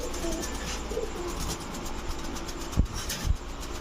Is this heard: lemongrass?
no